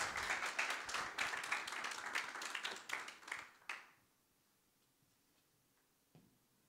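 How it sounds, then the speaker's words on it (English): A meetup audience claps for a software engineer about to speak, a steady patter of many hands for nearly four seconds that then stops abruptly into near silence, with one faint tap afterward. "So please, big applause for him."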